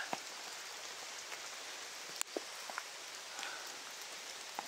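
Steady rain falls outdoors in an even, hissing patter, with a few sharper drops and taps standing out now and then; no one speaks.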